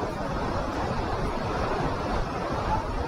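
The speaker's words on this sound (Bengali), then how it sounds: "আর এদিকে সুন্দর একটা জলপ্রপাত যাচ্ছে," A waterfall pours fast-moving water beneath Jogighat bridge near Gangtok, a loud, dense, steady rush with wind-like noise and no break across the few seconds.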